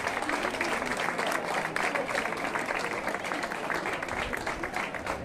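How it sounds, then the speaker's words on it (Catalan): Sustained applause rings out at an outdoor Santa Oliva floral offering in Olesa for the town's giants, steady clapping from a crowd with faint voices mixed in. "Un fort aplaudiment pels gegants que ens faran un ball tot seguit"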